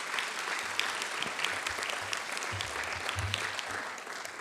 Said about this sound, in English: A round of applause, Stephanie.